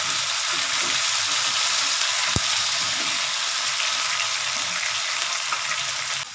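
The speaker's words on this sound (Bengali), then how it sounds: "আলুটা আস্তে আস্তে ভাজা ভাজা হয়ে এসছে" Potatoes fry in a pan with a loud, even sizzle that holds steady for the whole stretch, broken only by a single sharp tap of a utensil partway through.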